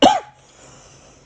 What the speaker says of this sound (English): my bad, I just coughed real quick